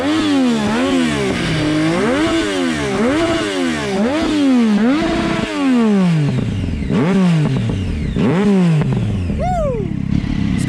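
Triumph Daytona 675 sport motorcycle engine revving loudly close by, rising and falling in repeated quick throttle blips, with a few longer sweeps toward the end.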